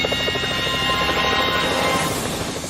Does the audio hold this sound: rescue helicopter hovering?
yes